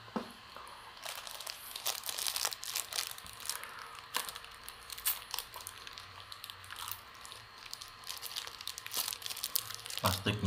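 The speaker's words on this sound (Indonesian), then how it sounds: "Plastiknya plastik es." A plastic ice bag crinkles and rustles up close in irregular bursts during a meal of nasi kebuli with lamb, fairly quiet and continuous, with soft eating sounds in between.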